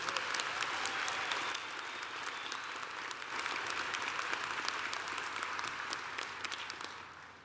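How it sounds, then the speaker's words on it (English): Sustained audience applause at a commencement ceremony, many hands clapping evenly in a large hall, steady and moderately distant without speech over it. "Let's give Kano another round of applause."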